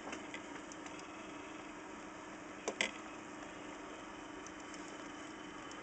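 A Numechron clock running on a modern synchronous motor gives off a steady, low electrical hum with faint high whine, unbroken for the whole stretch apart from a couple of small clicks midway; no one speaks.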